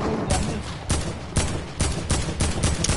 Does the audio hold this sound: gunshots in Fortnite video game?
yes